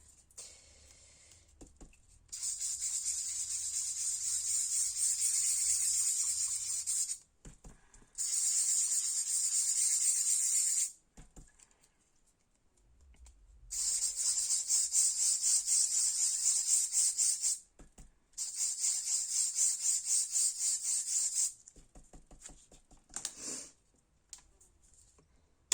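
A foam stamp dauber from Action rubs across paper in four long bursts of loud, scratchy, hissing friction, separated by short pauses and a few light clicks near the end.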